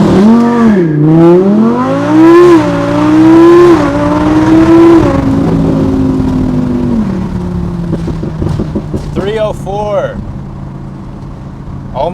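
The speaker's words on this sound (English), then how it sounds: "we're gonna do some 0 to 60 runs in the Audi" An Audi accelerates hard in a 0 to 60 run, its engine note climbing through the gears in loud rising sweeps with shifts, fading lower toward the end while someone talks over it.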